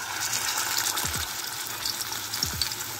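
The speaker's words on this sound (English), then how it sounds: "we have our oil heating up at the right temperature, so we're just gonna submerge our plantain" Plantain submerged in hot frying oil, giving a steady, bright, close sizzle that holds evenly throughout with a few faint low thumps underneath.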